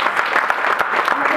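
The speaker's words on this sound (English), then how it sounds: "we should give the council member a huge round of applause" Audience applause at an immigration heritage awards ceremony in Queens, New York: steady, dense clapping from a crowd, loud and continuous throughout with no pauses.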